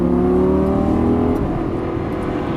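Lamborghini Gallardo LP550-2 on a race track, its engine loud and close as it accelerates, a rising harmonic whine that shifts midway and carries on strongly to the end.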